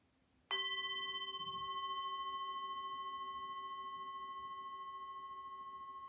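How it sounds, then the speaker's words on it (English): A single mindfulness bell is struck once, then rings out with a clear, sustained tone that fades very slowly over several seconds in a quiet room. "just listen for the sound of the bell"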